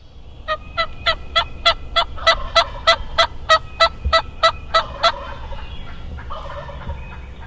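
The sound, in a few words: wild bird calling from up in a tree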